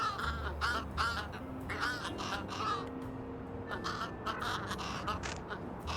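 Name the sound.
crows cawing in Little Kitty, Big City video game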